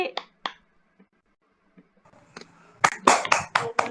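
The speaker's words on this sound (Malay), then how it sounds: "Tepuk tangan sikit." Students in a classroom clapping hands, beginning with a few isolated taps and swelling into a short burst of brisk applause.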